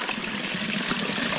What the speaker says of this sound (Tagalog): Ah, kalakas ng tubig o.